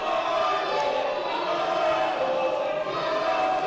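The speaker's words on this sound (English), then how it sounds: "The crowd aggressively taunting executive producer Craig Stossel." Dense wrestling arena crowd at an Imperial Wrestling Entertainment Christmas show, a loud sustained roar of massed voices chanting and jeering at the executive producer.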